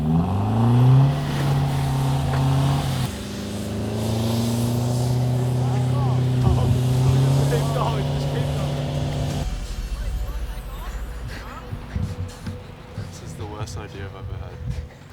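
A car engine revs hard and steadily with wheels spinning and slipping on the ground, then drops off toward the end while people talk nearby.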